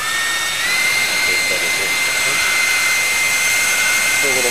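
An electric ducted fan runs at throttle during balancing, a loud steady high-pitched whine with layered tonal harmonics that shift slightly in pitch, continuous and close.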